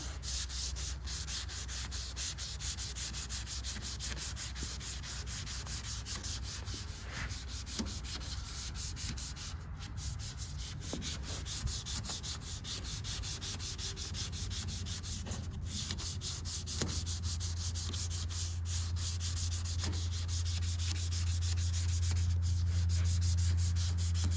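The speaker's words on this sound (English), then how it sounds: "Try to crisscross and, so that your sandpaper cleans out." Sandpaper rubbing by hand over guide coat on a Camaro's car body, a steady, fairly faint scratchy hiss with crisscross strokes continuing for the whole stretch.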